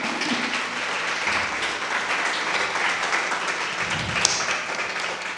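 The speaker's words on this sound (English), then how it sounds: "we can say hello and give them some applause" Applause at a human rights award ceremony greeting guests, a continuous, moderately loud crowd clapping with a few sharper claps standing out, sustained throughout.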